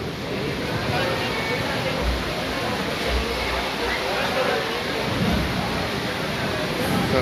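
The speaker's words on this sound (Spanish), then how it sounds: "ya se vino el agua" A heavy downpour drums steadily over an outdoor sixteenth-birthday celebration, a thick, unbroken roar of rain close by with a few low thuds and distant voices mixed in.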